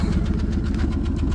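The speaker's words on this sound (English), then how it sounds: "Just kind of sits there and chugs along. Sounds like a tractor, just like all old Ford 6-cylinders should." A 1974 Mercury Comet's old Ford six-cylinder engine idling nearby, a steady low chugging rumble with an even, tractor-like pulse.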